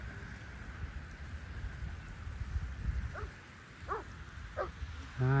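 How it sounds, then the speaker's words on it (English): Steady rain patters outdoors as a broad hiss, with a few faint distant barks and a louder thump at the end. "That's the rain starting now."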